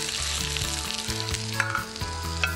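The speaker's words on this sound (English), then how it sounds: "we're going to give it a quick sear on that side just to start firming up the flesh" Wild Pacific salmon sears in a hot pan with a loud, continuous crackling sizzle and small popping spatters, heard close with no talking.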